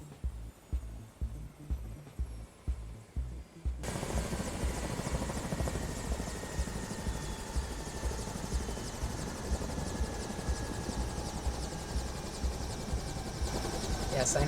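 A helicopter in the video game Perfect Tides beats loudly and steadily up close, its rotor chop filling the scene, first heard as a distinct thumping rhythm before becoming a dense, continuous roar.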